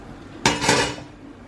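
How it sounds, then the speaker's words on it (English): Drained pasta tipped into a pan with spinach and stirred through, a single clattering burst of metal utensil against the pan that rings briefly and fades, close and alone. "I've drained my pasta, and now I'm just going to pop it in and stir it through"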